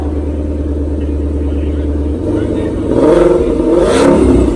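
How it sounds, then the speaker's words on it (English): A 2020 Shelby Mustang GT500's low engine rumble idles steadily, then swells into a louder, gruff roar as the exhaust is revved nearby. "you can hear this unique Shelby Mustang roar"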